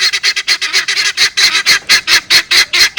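Guinea fowl call in a rapid, steady series of harsh, rhythmic honking cries, loud and close, with no talking.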